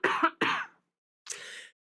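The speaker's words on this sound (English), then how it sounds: "There, he just coughed right in the mic." Two sharp coughs close on a microphone, followed after a short pause by a softer throat-clearing rasp, with no talking.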